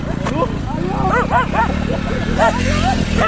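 Several dogs bark and yip in quick, overlapping bursts near a rural Indian roadside, with people talking over them and a low engine-like rumble underneath.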